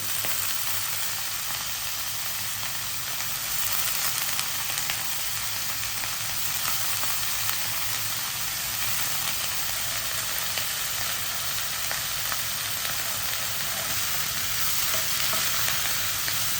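Continuous loud sizzling and frying of banana flower in a pan, with occasional scraping as it is stirred, close and steady throughout.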